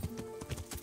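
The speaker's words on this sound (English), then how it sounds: "Is that a horse?" Horse hooves clip-clop in the medieval video game Kingdom Come: Deliverance, a few quick, fairly soft steps close by with nothing else over them.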